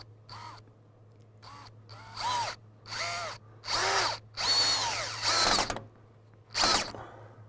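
Power drill driving a screw into a pre-drilled hole in a hoop house bow, heard as a series of short whirring bursts that grow longer and louder, some with rising and falling motor pitch, over a steady low hum.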